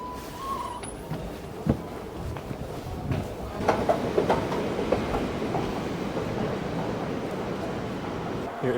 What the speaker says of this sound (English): Here is our last metro arriving.